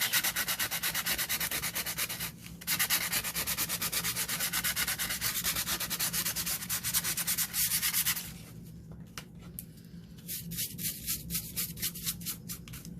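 A gessoed journal page is sanded with steady back-and-forth rubbing strokes, close and continuous, then it breaks into shorter, lighter scrubbing passes near the end, with no talk.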